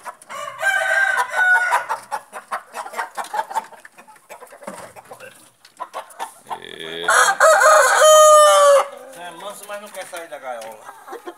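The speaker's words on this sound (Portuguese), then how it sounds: "É um franguinho ainda." Young chicken in a cage clucking and letting out a thin, squeaky attempt at crowing, close and fairly loud, in bursts mixed with people talking nearby.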